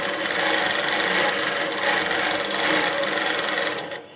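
An INNOVA Longarm Classic quilting machine stitches with a steady, close, continuous mechanical whir that holds even for about four seconds, then cuts off at the very end.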